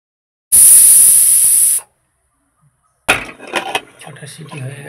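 Pressure cooker whistle venting steam while beef cooks, a loud high hissing blast lasting over a second, then silence, followed by clattering kitchen noise.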